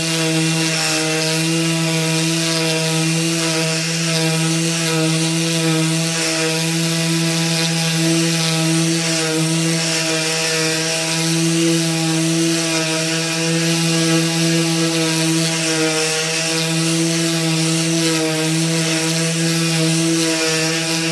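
A Stanley FMCW220 random orbital sander with 80-grit paper stripping a wooden piece, a steady loud electric whine with strong even hum and constant abrasive rasp throughout, no pauses.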